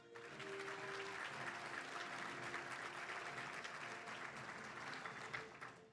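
An audience at a touchdown club gathering applauds for a student honoree, a steady wash of many hands clapping for several seconds, faint and distant-sounding, with a brief tone early on.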